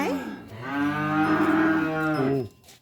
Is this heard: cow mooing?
yes